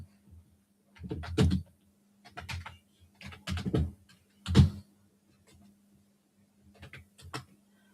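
Bursts of computer keyboard typing come in short irregular clusters of clicks over a faint steady hum, close by and fairly quiet, with pauses between the runs.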